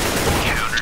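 Gunfire in the video game Counter-Strike: Global Offensive comes as a dense, loud burst of shots. It fills the short moment and ends with a brief higher ringing tone.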